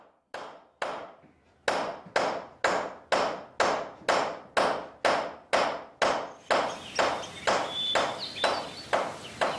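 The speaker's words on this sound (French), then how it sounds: "utiliser l'autre côté du marteau pour rendre la paillette d'argent plate" A hammer flattens a thin silver flake for Miao silver flower ornaments, striking about sixteen sharp, evenly spaced blows that ring out close and loud on their own, speeding slightly toward the end.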